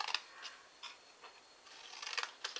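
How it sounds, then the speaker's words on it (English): Quiet, close snips of scissors cutting paper, a series of short crisp clicks spaced irregularly, quickening near the end. "we're going to bring in our scissors"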